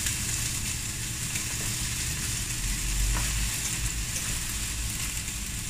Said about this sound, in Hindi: थोड़ा सा फ्राई करके निकाल लेंगे